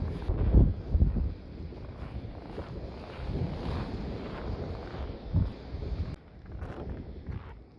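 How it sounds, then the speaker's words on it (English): Strong wind from a Buffalo, New York blizzard on Christmas Eve 2022 gusts outside a house, a faint, low, uneven roar that swells and fades in bursts. "This is how windy it is."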